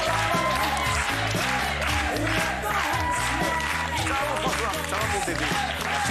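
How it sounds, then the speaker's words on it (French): A studio audience on a French TV show claps steadily for a guest, a dense, continuous wash of applause with music playing underneath. "Applaudissements pour lui."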